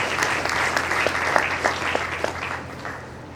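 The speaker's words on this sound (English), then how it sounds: "Please, a round of applause for them." Conference audience applauding in a large hall, a full wash of many hands clapping at even strength that slowly thins and fades toward the end.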